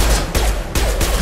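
Gunfire in the video game Mass Effect 2, a few loud close bursts of shots separated by brief gaps, with no talking.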